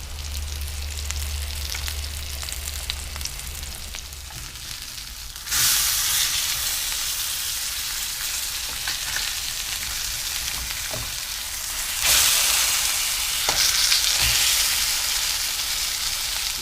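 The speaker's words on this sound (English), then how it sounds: "add a little bit of this over to the top of the fish right when it's almost done cooking" Salmon frying in a pan under a honey teriyaki glaze, a steady close sizzle that jumps louder twice as more glaze hits the hot pan, hissing continuously with no talking.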